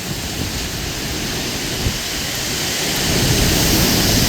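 Hurricane storm in Jamaica: heavy rain roars steadily and loudly, with low thunder rumbling through it, swelling slightly toward the end, with no voices.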